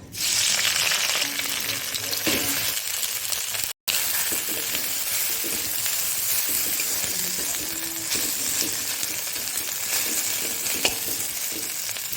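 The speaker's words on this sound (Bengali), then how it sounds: "ওই তেলের মধ্যে ফুলকপিগুলো ভেজে নেব।" Cauliflower pieces fry in hot oil with a steady crackling sizzle that runs continuously, broken by a brief cut, with occasional faint clinks of a utensil against the pan.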